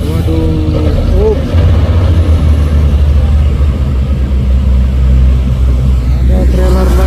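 A Hino trailer truck hauling a container labours up a hill road, its loud, close diesel engine rumbling steadily with gear and brake hiss sounds, while people talk over it.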